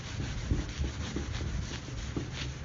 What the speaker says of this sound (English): You get a little piece of wood with your scrubby pad and really put some effort into the scrubbing action.